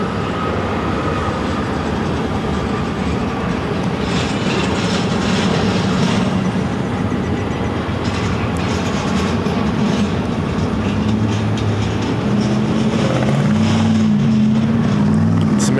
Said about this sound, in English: It's American Airlines Flight 2109 coming in from Las Vegas on a 737-800.